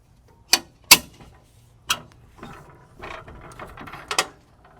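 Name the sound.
Allen wrench cranking bike rack anti-wobble mechanism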